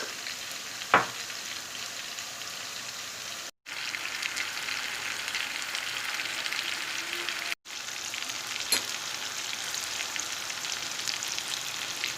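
Potato fries deep-frying in hot oil for a Sunday breakfast, giving a steady, dense sizzle and crackle close by with two brief gaps and a couple of sharp clicks; no talking.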